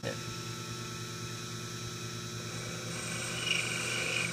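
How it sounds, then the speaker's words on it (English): A machine's power feed drives a cutting tool into a steel workpiece, producing a low, steady mechanical hum with faint whine that swells slightly toward the end, with no talking. "Then we turn the power feed and it cuts successfully."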